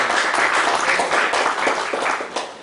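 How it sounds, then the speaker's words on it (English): Seminar attendees at a professional session on central excise and customs applaud the speaker, a brisk burst of clapping that thins out near the end. "please give him a big round of applause"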